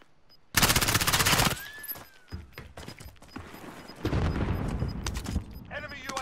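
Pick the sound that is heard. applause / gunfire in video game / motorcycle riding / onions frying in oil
gunfire in video game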